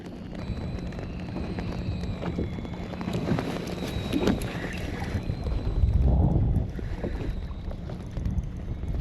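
Steady wind roars and buffets the microphone outdoors on a cold day of fishing from a small boat, with faint knocks and water movement underneath and no talking.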